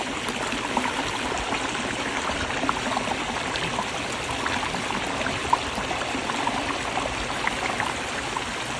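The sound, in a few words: water flowing down a pondless waterfall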